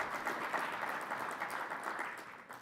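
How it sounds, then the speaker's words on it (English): Steady audience applause fills a plenary session at a winter meeting, a dense, even wash of clapping from a large room that holds at one level throughout with no voices on top. "Clap for Bank of America."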